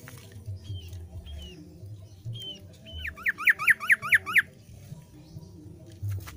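A caged yellow-vented bulbul (trucuk) sings: a few spaced whistled notes, then a quick rhythmic run of five sharp chirps, clear and close over faint low background noise.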